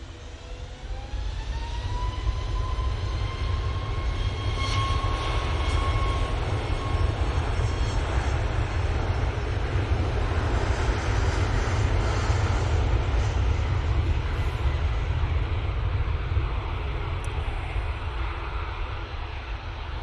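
Turkish Airlines aircraft on final approach, a continuous broad jet roar with a high engine whine that sweeps upward early, loud and sustained across the whole stretch without speech.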